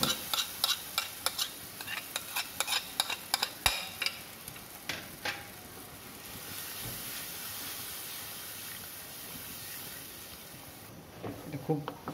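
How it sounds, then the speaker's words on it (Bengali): Gram flour batter is stirred into frying okra in a pan for Maharashtrian bhindi jhunka, with repeated rhythmic scraping strokes over a steady sizzle, close and fairly quiet. "খুব বেসনটা যেহেতু দিয়েছি বেসনটা নাড়িয়ে যেতে হবে।"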